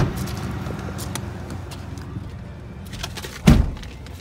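A 2005 Ford F-150 SXT 4x4 pickup running quietly, a low, steady engine rumble close by, broken near the end by a single sharp thump like a door closing.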